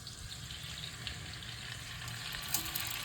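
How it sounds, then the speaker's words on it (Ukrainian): Cut meat fries in heated oil in a pan with a steady, dense sizzle and crackle, close and continuous, with no talk. "Розігріваємо сковородочку і кидаємо жарити м'ясо."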